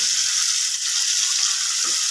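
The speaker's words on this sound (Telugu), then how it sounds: "ఇలా ఫ్రై చేసుకుంటా" Steady, loud sizzle of food frying in a pan with oil, a continuous close hiss with faint stirring underneath.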